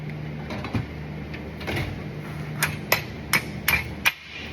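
A pin being hammered back into the suspension of a Chevy OBS truck during a BellTech 5/7 drop install: five or six sharp metallic hammer strikes in a quickening run, close and loud over a low steady hum.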